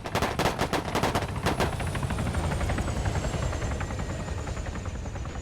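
Sustained automatic gunfire in the video game Arma 3, a dense rapid burst of shots at the start thinning into a steady crackling barrage, with a helicopter's drone running underneath throughout.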